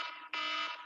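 A workout timer buzzer gives a loud, steady electronic buzz in two bursts with a brief dip between them, heard alone in a boot camp fitness class.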